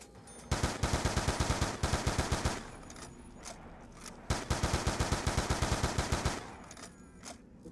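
Rapid M14 rifle fire in Call of Duty Black Ops 2 Zombies comes in two long, evenly paced strings of sharp shots separated by a short pause, loud and steady with no talking.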